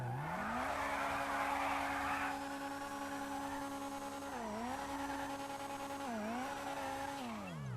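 A modded Honda Civic Type R engine in GTA V drones at steady pitch with rising and falling revs and a long tire squeal, clear and continuous with no voices.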